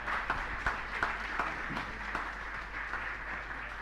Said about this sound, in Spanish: Un aplauso de vuelta al Padre, por favor.